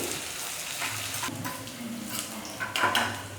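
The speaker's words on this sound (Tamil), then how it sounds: "இதை நல்லா வதக்கிக்கலாம்" Onions with salt sauté in a pan, a soft continuous sizzle under light scraping and clinking as a spoon stirs them, fairly quiet and close.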